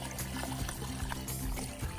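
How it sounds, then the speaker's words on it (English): Water pours into a pot of traditional Hungarian goulash with potatoes, a close, continuous trickling splash lasting a couple of seconds. "Adding more water."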